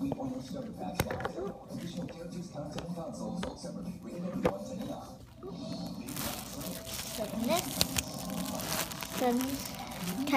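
Crinkly plastic dog treat package being opened, with rustling, crinkling and tearing close by under ongoing talk.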